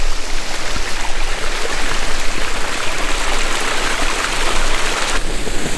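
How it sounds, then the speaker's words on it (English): Water from a farm pond spillway flows into a creek as a steady, loud, close rushing wash that holds constant throughout, with no voices. "this water goes right back into the creek"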